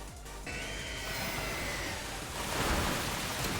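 Rain weather effect from the Pokemon Scarlet/Violet video game during a battle: a steady, close hiss of rainfall that swells slightly partway through and carries on with no talking.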